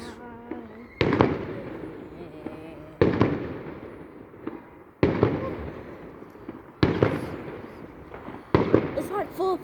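Fireworks bursting at night across the street during a noisy festive evening: five sharp, loud booms spaced about two seconds apart, each trailing off into crackling decay, with people talking between blasts.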